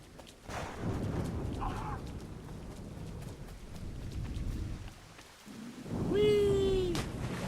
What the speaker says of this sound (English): You shouldn't be working in the rain, but especially a thunderstorm